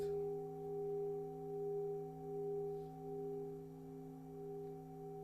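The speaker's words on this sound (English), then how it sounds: "Now these are Tibetan bowls, Tibetan, brass, the metals that they make them out of" Several steady, sustained metallic tones from Tibetan brass singing bowls hum together with a gentle slow pulsing, ringing on and on, fairly quiet with no voices.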